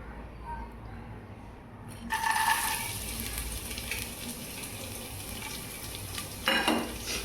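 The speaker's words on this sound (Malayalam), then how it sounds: "നമുക്കിത് നന്നായിട്ട് വറുത്തെടുക്കാം" Chopped coconut pieces dropped into a hot pan, bursting into a loud sizzle that settles into steady frying, with a brief scrape of stirring near the end.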